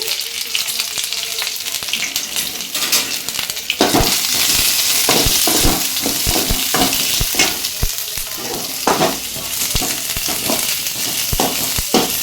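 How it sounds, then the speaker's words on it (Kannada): Onions fry in a pan for an egg curry. A steady, bright sizzle runs throughout, broken by frequent sharp scrapes and clacks of stirring, close and fairly loud. "ಸ್ವಲ್ಪ ಈರುಳ್ಳಿ ಎಲ್ಲ ಫ್ರೈ ಮಾಡ್ಕೋಬೇಕ್ರಿ"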